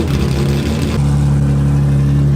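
A Nissan G35 with a rebuilt cammed engine revs loudly and close, the pitch shifting at about one second before settling into a steady, strong drone.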